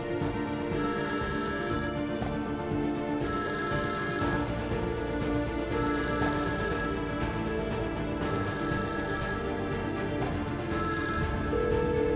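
A telephone rings in a Turkish drama, with bright electronic bell bursts repeating about five times at a steady pace over quiet background music.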